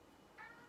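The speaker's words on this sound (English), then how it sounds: "sorry, that's my cat meowing." A single short, faint meow from a cat, quiet and somewhat distant against low background noise.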